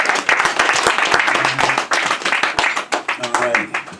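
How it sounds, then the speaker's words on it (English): A room full of adults at a comedy show claps and applauds, with dense, steady hand clapping close by and voices talking and calling out underneath. "Give yourselves a round of applause."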